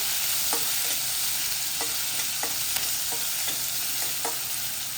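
Green chilli and ginger paste fry with cumin seeds in a pan, making a continuous soft sizzle with scattered light spatula taps and scrapes, close and without speech.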